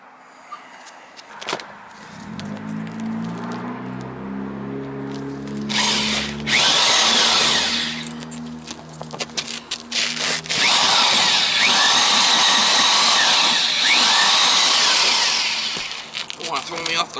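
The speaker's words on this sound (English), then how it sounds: "I gotta drill down with the angle, right angle bit down through there." A right-angle drill whirs up and grinds steadily, boring through a wooden plate, bogging and surging for several seconds, loud and close.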